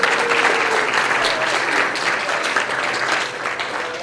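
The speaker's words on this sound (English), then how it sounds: "you want a round of applause for Team 5?" Audience applause for Team 5 at a merchandising workshop, a steady wash of clapping from a crowd that holds at full strength for the whole stretch, easing only slightly near the end.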